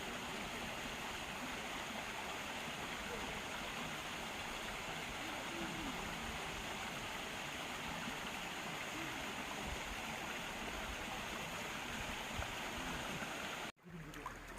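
A mountain stream rushes steadily at Yongmunsan in autumn, a continuous close wash of flowing water that cuts off abruptly near the end.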